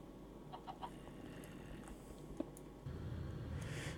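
Blocky chicken clucks a few soft times in Sky Factory 3, the Minecraft modpack, with faint game clicks. The sound is low and distant over a background hum that swells near the end.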